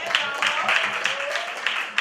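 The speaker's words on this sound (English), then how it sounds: "Let's clap her up." A crowd claps for the founder at a youth group's anniversary awards ceremony: a brief, busy burst of applause with scattered louder claps and voices faintly underneath.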